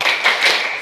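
A fifth-grade elementary school class performs a tepuk semangat clapping routine, a brief, dense burst of hand claps lasting under a second.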